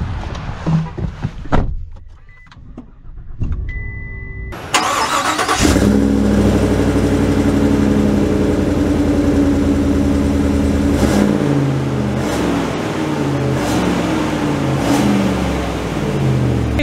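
A Chevy Silverado HD pickup's 6.6-liter gas engine cranks and fires up, then settles into a loud, steady rumble that shifts through gears as the truck pulls away and drives.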